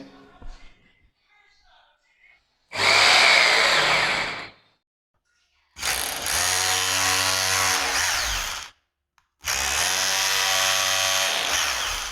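A hammer drill with a 5.5 mm bit bores holes into a wall for a TV mount plate, running in three loud bursts of whining, rattling drilling separated by brief silences, with faint handling noises before the first burst.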